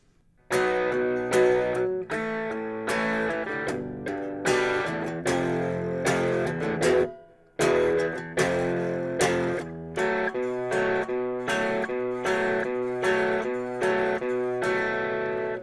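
Guitar strumming through the chord progression of a song, steady rhythmic strums ringing close and clear, with a brief pause midway before the pattern resumes.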